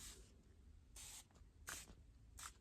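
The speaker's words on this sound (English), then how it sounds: "I'm just going to give you one last spritz with some warmer water," Three short spritzes of water from a spray bottle, soft airy hisses spaced about a second apart over a quiet, low background.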